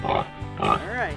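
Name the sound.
pig oinking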